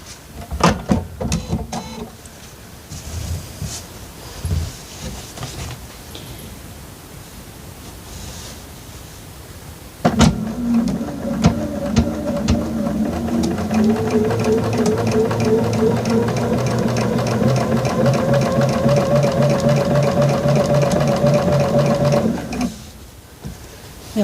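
Sewing machine stitching quilt fabric, running as a steady continuous whir for about twelve seconds after a quieter stretch of handling the cloth, then stopping.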